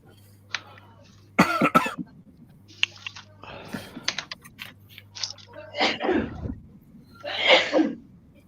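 A single sneeze bursts out near the end of a stretch of scattered coughs, throat noises and background voices in an indoor setting with a steady low hum.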